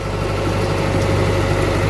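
Steady low engine drone of a small wooden fishing boat idling on a river near the Bay of Bengal in the Sundarbans, constant and close with a deep rhythmic throb and no voices.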